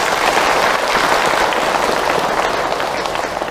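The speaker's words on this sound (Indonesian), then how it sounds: "Tepuk tangan." Sustained applause from a large audience at an Islamic talk, a thick, even wash of many hands clapping at once, loud and close with no break.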